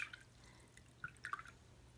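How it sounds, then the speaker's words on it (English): A watercolor brush swished and rinsed in a water jar, giving faint, close little drips and splashes in a few quick bursts within a quiet room. "I'm going to rinse out my brush"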